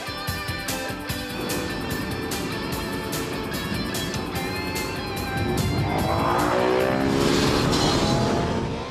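A motorbike at about 230 km/h on a racetrack, its engine whining steadily and loudly near the rider, with a rising rush of wind and engine noise toward the end.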